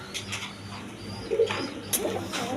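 A pair of black Racer pigeons at a market stall give soft, low coos, faint and brief against quiet background rustle.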